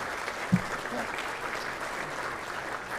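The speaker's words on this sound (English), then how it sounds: "please give them a nice round of applause" Business education conference attendees give a round of applause, a soft, even patter of many hands with one brief louder knock near the start, continuing steadily at a distance.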